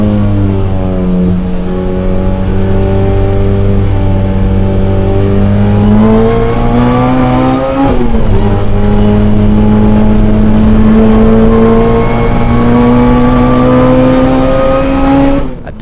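A car on a flying lap around a race track, with a Skyline following close behind. The engine drones loud and near throughout, its pitch climbing under acceleration, dropping sharply at a shift or lift, then rising again.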